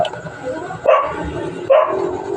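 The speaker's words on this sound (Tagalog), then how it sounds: "Yung nagbablog ako tumatahol" A dog barks twice, short and close, about a second apart, over a steady background hum.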